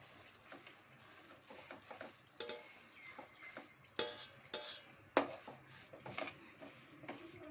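A spoon scraping and clinking in a pan as dry-roasted nuts are stirred with sugar syrup for a dry-nut sweet, irregular soft taps and scrapes at close range, quiet overall.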